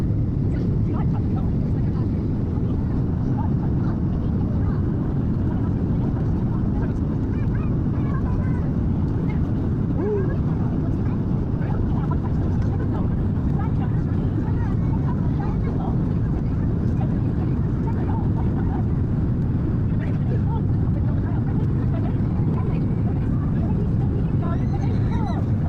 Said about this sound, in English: Descending onto an island is so cool.